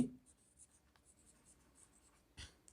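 Pen writing numbers by hand on paper during a sixth-grade math lesson, soft scratchy strokes in short bursts at close range, with a louder tap near the end and no talking.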